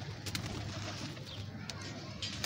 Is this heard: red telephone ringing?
no